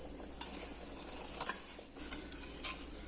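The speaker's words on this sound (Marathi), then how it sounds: "पिठी साखर आपल्याला छान मिक्स करून घ्यायची आहे दुधामध्ये" A spoon stirs powdered sugar into milk in a pan for a kalakand sweet, giving soft scraping strokes with a faint sizzle underneath, three brief clinks standing out.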